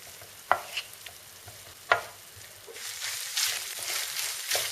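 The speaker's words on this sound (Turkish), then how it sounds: "Suyunu tamamen çekene kadar kavurmaya devam ediyoruz." Tantuni meat sautéing in a pan with red pepper powder and salt until its liquid cooks off, a soft hiss broken by sharp clacks of a utensil stirring against the pan.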